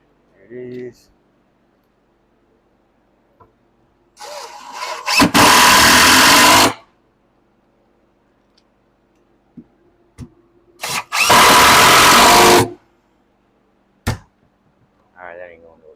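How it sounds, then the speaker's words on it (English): Power drill in a home wall-building job, whirring in two loud sustained bursts of about a second and a half each, separated by quiet gaps with scattered small knocks and brief faint sounds. "Drill."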